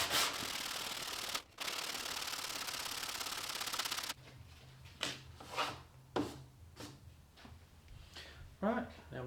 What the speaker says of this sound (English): Butt the sandpaper up and just sand it till that line's gone.